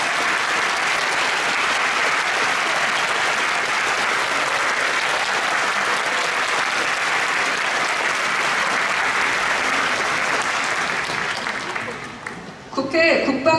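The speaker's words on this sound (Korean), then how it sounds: "큰 박수 부탁드리겠습니다." Large audience at a Korean navy concert applauding loudly and continuously, a dense sustained roar of clapping that fades near the end as a voice begins speaking.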